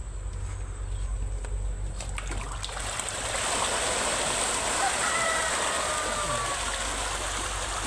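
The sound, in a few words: fish-tank water trickling into azolla pond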